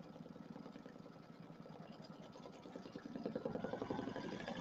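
An embroidery machine stitches a placement line, a faint rapid whirring buzz with a regular needle rhythm that grows slightly louder near the end.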